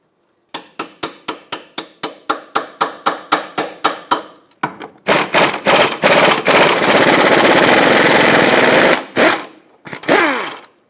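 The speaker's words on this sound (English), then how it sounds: "we're going to hammer a 19mm socket on here and then take it off." Rapid metallic hammer blows ring out in a fast rhythmic series as a 19mm socket is hammered onto a nut on a 2003-2008 Toyota Matrix front wheel hub, then a dense burst of continuous impacts, followed by a few final strikes, loud and close.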